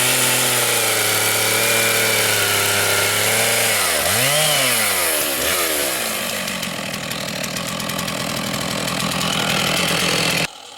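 A chainsaw cuts green spruce to make furniture. The engine screams loud and close, bogs and dips in pitch under load partway through, then settles into a rougher, lower running sound before cutting off abruptly.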